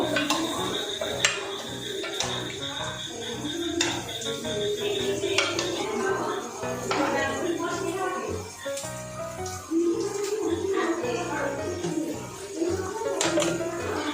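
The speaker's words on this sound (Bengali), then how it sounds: "কিছুটা বিরিয়ানি মশলা, এটাকে ভালো করে আমরা নাড়বো।" A spoon stirs biryani masala in a pot for Kolkata-style chicken biryani, giving repeated scraping and clinking of metal against the pot with some sloshing in a steady, busy rhythm.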